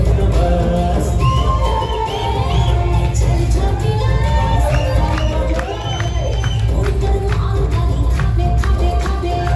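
A large audience at a Chhattisgarhi film awards show applauds and cheers loudly and continuously, with whoops and shouts rising over a dense crowd roar.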